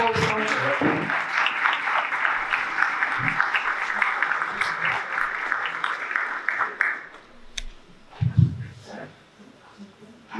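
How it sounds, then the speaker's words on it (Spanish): Audience applause after a food-science class for rural police, a broad burst of clapping that carries for about seven seconds before fading out, then scattered voices and talk in the room. "Primero un aplauso."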